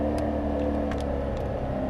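A Corvette C7 Z06 engine drones steadily close by on a racetrack, accelerating out of a corner, holding a loud, even roar with a slight rise in pitch over a couple of seconds.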